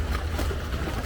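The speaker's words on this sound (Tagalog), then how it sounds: "Grabe ang alon, guys. Yan, rinig na rinig niyo yung alon." Choppy water from passing motorboat wakes slaps around a boat on a river in Bangkok, Thailand, a steady, loud wash of churning waves and low rumble with wind buffeting the microphone and no talk.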